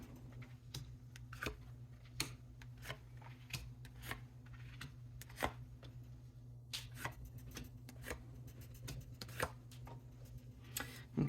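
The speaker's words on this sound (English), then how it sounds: "we are going to pull 9 cards from this deck here" Tarot cards are shuffled and drawn from a deck in a quiet room, heard as a steady run of crisp, close card flicks and snaps over a low hum.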